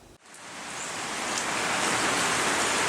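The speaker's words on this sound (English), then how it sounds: "rain, rain, more rain" Steady rain hisses as a dense, broadband wash that starts after a brief dip and swells quickly, then holds at an even, fairly loud level with no talking.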